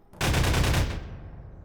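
A pulse rifle in the video game Garry's Mod fires one loud, rapid burst lasting well under a second, then a short decaying tail.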